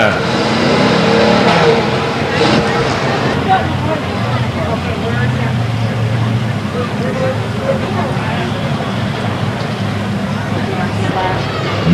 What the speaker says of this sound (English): Drivers getting the cars tucked up and in place, getting ready for a start.